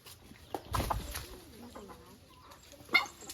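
Chickens kept on a farm, heard as faint, sparse clucks and soft fowl calls in a quiet outdoor setting, with a couple of slightly louder bursts.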